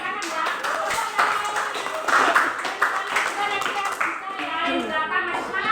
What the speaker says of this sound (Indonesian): Pintar ya, tepuk tangan ya